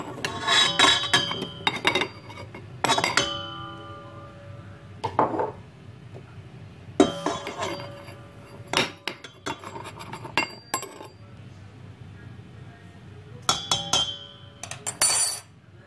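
Dry ingredients for msemen dough, fine semolina and salt, being tipped into a metal stand mixer bowl, with a series of separate clinks, taps and scrapes of utensils and containers against the bowl, close and clear with pauses between.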